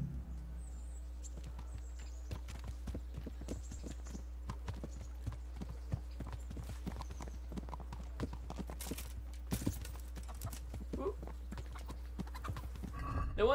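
Steady clip-clop of a horse's hooves walking in the medieval video game Kingdom Come: Deliverance, a regular rhythm of light hoof falls over low background hum, with a few louder thuds near the end.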